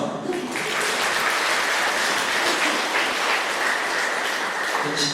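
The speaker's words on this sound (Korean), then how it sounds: "박수 한번." Korean church congregation at a Saturday evening revival service breaking into loud, sustained applause from a large crowd, steady and full throughout.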